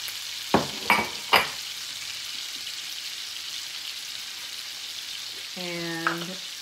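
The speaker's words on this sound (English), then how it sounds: "I'm going to go ahead and saute that in the bacon fat" Chopped onion with green and red pepper sauté in bacon fat, a soft, steady low sizzle after three quick clattering knocks, with a short tonal, voice-like sound near the end.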